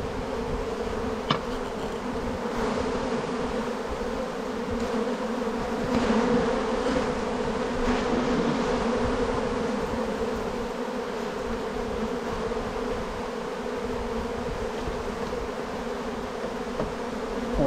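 A honeybee swarm being moved from an attic fills the space with a steady, dense buzzing that holds close and loud from start to finish, with a faint click near the beginning.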